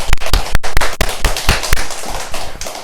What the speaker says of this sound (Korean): 우리 박수를 한번 칠까요?